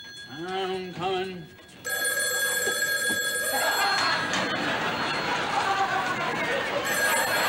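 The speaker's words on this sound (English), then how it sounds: "Gonna get that phone." A telephone bell rings loudly and continuously in a 1970 television comedy sketch set in a shop, with a voice briefly heard before the ringing and chatter and laughter murmuring underneath.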